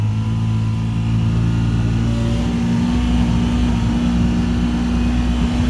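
A Polaris 700 Ranger EFI engine hums in high gear as the throttle is gently eased in, a steady droning tone that rises slightly in pitch midway, close and continuous with no talk.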